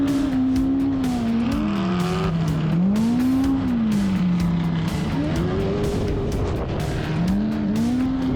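A UTV driven hard off-road, its engine droning steadily and rising and falling in pitch as the throttle works, loud and continuous under a constant roar of wind and terrain noise.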